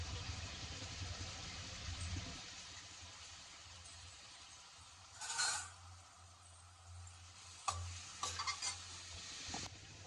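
Onions frying in oil in a pan for a taro-root curry, with a faint steady sizzle and occasional stirring scrapes and clinks over a low background hum.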